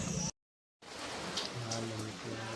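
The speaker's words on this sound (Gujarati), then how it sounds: "વરસાદ આવે છે" Light rain begins falling outdoors on a cloudy evening, a soft steady patter on surfaces after a brief cut, with a low hum and faint voices underneath.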